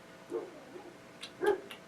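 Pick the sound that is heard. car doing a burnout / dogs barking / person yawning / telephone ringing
dogs barking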